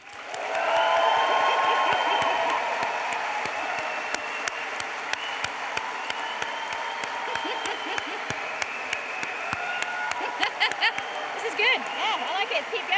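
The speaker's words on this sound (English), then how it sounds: "I would like everybody to be cheering, clapping, whooping, whatever noise you'd like to make" A graduation audience at a Staffordshire University Games Institute engineering ceremony in 2024 bursts into loud sustained clapping, with high whoops and cheers rising over it, then ebbing into a steadier patter of sharp individual claps.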